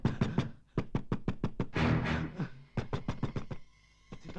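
Rapid, loud knocking on a door in a tense indoor scene: quick bursts of sharp raps, a brief pause filled with a rushing noise, then another fast run of knocks, close and insistent.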